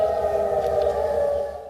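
A siren wails in a steady, sustained tone announcing a nationwide curfew in Jordan, loud and continuous, fading slightly at the very end.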